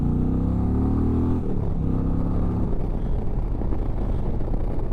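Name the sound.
Indian Chieftain 112 motorcycle accelerating in sport mode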